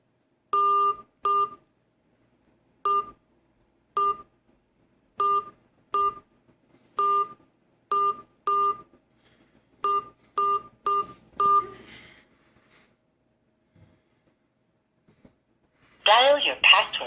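Telephone keypad DTMF tones dialing a PIN followed by the pound key, with about sixteen short, evenly clipped beeps grouped in pairs and singles at a steady pace, then a brief burst of other sound at the end.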